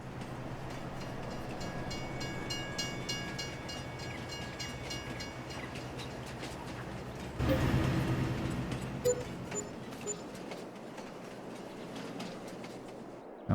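Train wagons roll along rails in Farming Simulator 22, a low continuous rumble with faint clatter, growing louder and busier partway through before easing off again.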